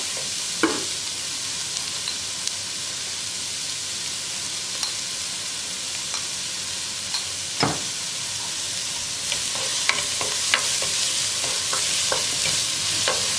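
Onions cooking with curry leaves and salt in a pan give a steady, dense sizzle throughout, close and even, with scattered sharp crackles and an occasional utensil scrape.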